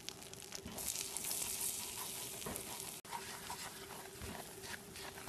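Flour being stirred into melted butter in a saucepan, giving a quiet steady bubbling sizzle with soft scraping stir strokes, close and low, without speech.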